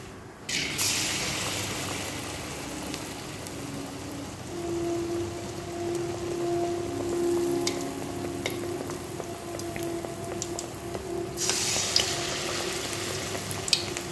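Battered banana-flower fritters sizzle steadily in hot oil in a wok, a dense, continuous crackling hiss that holds close and fairly loud throughout with no voices.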